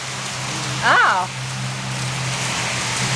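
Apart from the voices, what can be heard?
rain pouring outside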